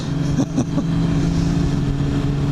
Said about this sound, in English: man, my bike sounds good though.